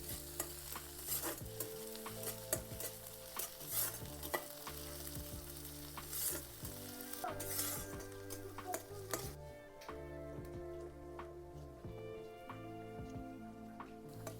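Green chili and garlic paste sautéed in a pan, a soft steady sizzle under rhythmic scraping stir strokes, with a low hum running beneath; close, fairly quiet, and no one speaking.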